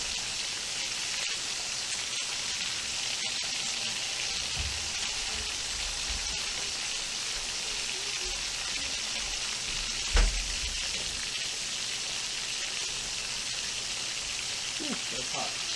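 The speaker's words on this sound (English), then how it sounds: "I put some scallion inside oil, you know, to let it fry up" A whole chicken fries in hot oil with scallion, ginger and pimento, giving a loud, continuous, close hiss of sizzling with a couple of brief thumps.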